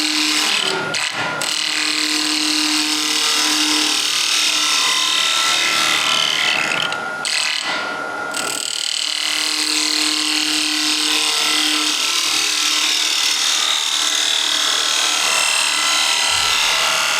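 A wood turning gouge cuts wood on a lathe with a steady, continuous scraping hiss, interrupted by brief pauses where the tool lifts off. It sounds close and fairly loud, with no talk over it.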